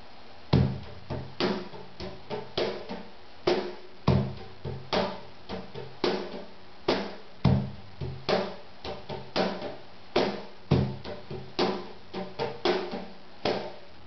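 Steady cajon groove, solid low thumps alternating with crisp slaps, dotted with fast rolled flams and grace notes, played alone at a moderate tempo.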